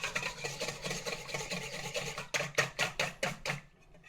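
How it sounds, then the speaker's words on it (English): Two room-temperature eggs whisked by hand in a bowl for a lemon curd mousse, a quick run of rhythmic scraping strokes that ends after a few seconds. "I'm just going to give that a little whisk by hand."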